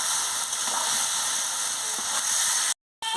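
Vegetables, including potol, carrot, ridge gourd and potato, sizzle steadily while being sautéed in a pan, a dense hissing crackle that cuts out briefly near the end.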